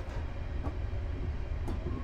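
A train running in the Train Simulator video game, pulling into a station past signals, gives a steady low rumble with faint rhythmic wheel clacks, continuous and fairly loud, with no talk.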